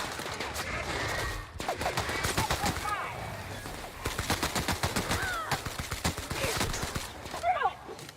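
Rapid bursts of video-game gunfire from The Outer Worlds in a small town area, repeated volleys of sharp shots over busy game sound and music, loud and close.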